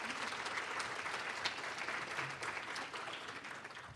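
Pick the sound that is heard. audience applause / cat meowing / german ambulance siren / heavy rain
audience applause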